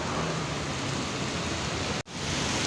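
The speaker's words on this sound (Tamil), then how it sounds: "பாருங்கள் செம்ம மழை பெஞ்சிட்டு இருக்குது ரொம்ப மழை பெஞ்சிட்டு தான் இருக்குது" Heavy, sudden rain pours down steadily after work, a dense, loud, continuous hiss of falling water close by, briefly cut by a short dropout near the end, with no talking.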